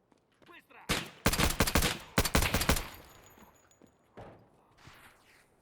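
A gun fires in rapid bursts in the shooter game Escape from Tarkov, two sharp volleys of loud cracks close together, then fading echoes and a few faint distant shots.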